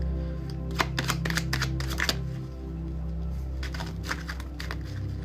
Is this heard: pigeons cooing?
no